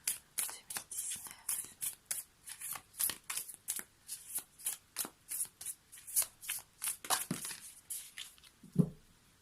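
Tarot cards are shuffled in a quick, steady run of crisp riffles and slaps. The sound is close, with a soft thump at the end.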